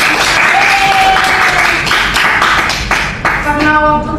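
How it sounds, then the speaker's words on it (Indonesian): A class of eighth-grade students applauds at the end of a poetry lesson, dense clapping filling most of the span, with a few voices and a sustained tone partway through before the clapping thins out near the end. "terus sekali beri tepuk tangan pada"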